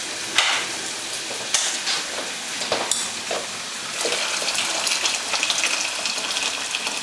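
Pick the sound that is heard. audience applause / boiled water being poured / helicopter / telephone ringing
boiled water being poured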